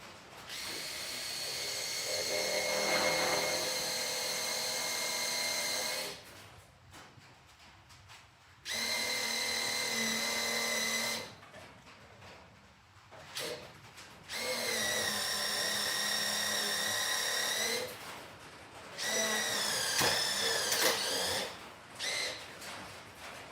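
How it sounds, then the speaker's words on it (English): A power drill bores clearance holes through steel angle in several long bursts, each a sustained whining grind that rises in pitch, separated by short quiet pauses. "You'll cut the clearance holes in the angular angle, so I can attach it to that 2-inch square tube"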